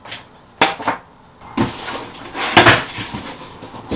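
Metal Intel and AM4 CPU cooler mounting brackets and screws being handled, producing several sharp metallic clinks and rattles in short bursts, close and fairly loud, with no speech.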